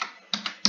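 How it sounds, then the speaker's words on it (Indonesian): Keys clicking on a computer keyboard while a web address is typed, three quick separate close taps in under a second, no talking. "Kita ketik di sini dengan alamat"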